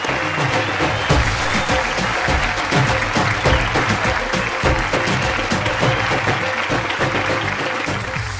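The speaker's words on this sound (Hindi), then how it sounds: "बहुत सारी तालियां" Audience applause at a live Pakistani children's TV game show, a loud, dense and sustained clapping from a studio crowd that carries steadily through the whole stretch.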